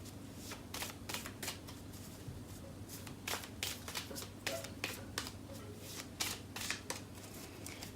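Tarot cards being shuffled by hand, a steady run of crisp riffling flutters and soft slaps repeating close up over a low constant background hum.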